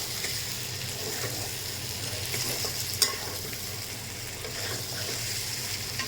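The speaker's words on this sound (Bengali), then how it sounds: "আমার মাংস ভাজা হয়ে গেছে।" Meat sizzles steadily in a hot pan, a continuous crackling hiss with one brief clink partway through.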